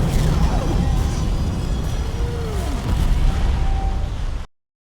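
Fiery ultimate explosions from Zoh Sia in the video game Monster Hunter Wilds, a loud continuous roaring rumble of blasts and crackling fire with no pauses, cutting off abruptly near the end.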